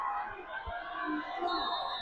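Home crowd in the stands at a high school football game, a faint, distant murmur of cheering and chatter sustained throughout, with a few thumps.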